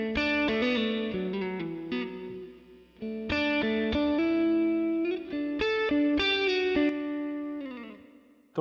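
Electric guitar played through a plate reverb on an Ampero Mini multi-effects unit, with picked notes and chords in phrases, each ringing out into a lingering reverb tail, and a short gap before the next phrase.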